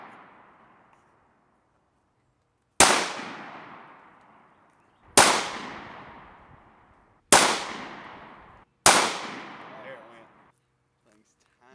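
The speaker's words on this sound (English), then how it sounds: "My brother also randomly brought over some guns he wanted to shoot," Handguns fired outdoors in four sharp, loud single shots spaced a couple of seconds apart, each crack trailing off in a short echoing decay, with quiet between.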